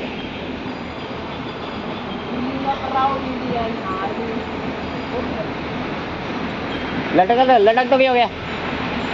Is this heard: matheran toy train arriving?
yes